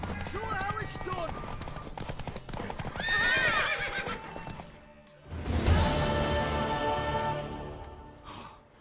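A horse in The Witcher 3 race scene: hooves clip-clop at a rapid gallop, the horse neighs and whinnies, and a heavy thud lands midway, with breathy vocal sighs and gasps mixed in.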